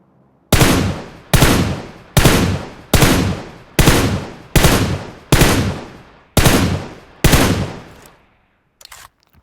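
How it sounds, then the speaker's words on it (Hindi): Gunfire in PUBG Mobile: nine loud, evenly spaced heavy shots, each cracking sharply and then decaying, followed by a short pause and a faint final click. "गोलियां पे गोलियां चलाया जा रहा है।"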